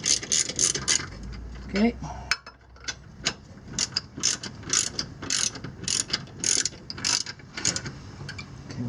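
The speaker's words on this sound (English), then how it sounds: "we're just going to use a stubby socket here" Ratchet with a stubby socket tightening differential bolts during a 4-bolt limited-slip differential install in a Galant VR4, giving repeated quick clicking bursts up close, with a brief spoken word partway through.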